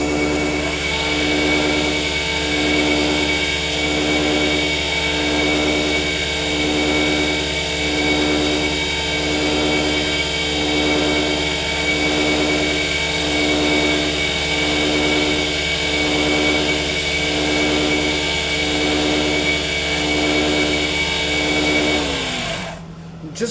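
Steady, loud whirring drone of a wood lathe spinning an acrylic fountain pen blank as a tool lightly scrapes it, with a faint pulsing rhythm throughout before the motor winds down at the end.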